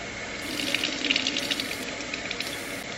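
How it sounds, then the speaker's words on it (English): Tap water runs steadily into a spray bottle for cleaning, a continuous close gushing and splashing with a faint rattle, heard alone and with no talking. "Actually, what I usually do is I fill the bottle with water first."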